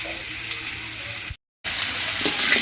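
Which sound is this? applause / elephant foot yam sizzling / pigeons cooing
elephant foot yam sizzling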